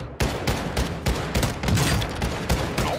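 Dozens of fire shotguns blast in a crowded Warzone 2 lobby, a dense, loud barrage of overlapping booming shots in rapid irregular bursts, with no talk over them.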